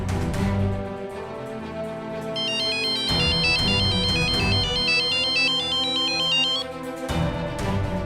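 A phone ringtone plays while a call is placed, a loud melodic tone repeating in bursts with brief gaps, alone with no talking.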